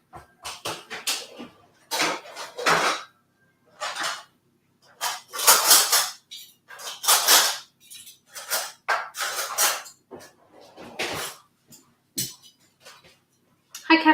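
Kitchen utensils, including a whisk and spatula, clatter and clink against bowls and pans in a home kitchen while baking a marble cake, in sharp irregular bursts separated by short quiet gaps.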